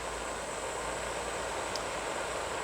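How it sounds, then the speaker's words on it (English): Constant broadband hiss of a Cigweld BlueJet JET411 propane pencil torch flame, loud and unchanging throughout, with no voices. "Cigweld is much noisier and it has a certain hiss."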